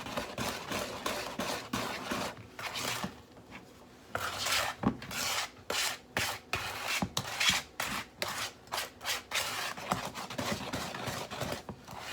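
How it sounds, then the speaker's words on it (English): A spoon or spatula scrapes around a mixing bowl of thick spice cookie dough in quick rhythmic strokes, a close rasping rub repeated many times with brief pauses. "Notice I'm scraping my bowl in between stirring it"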